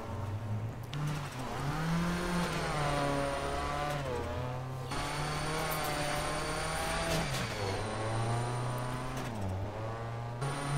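A rally car engine in the Dirt racing video game revs and shifts continuously, a loud buzzing drone rising and falling through the gears with no talk.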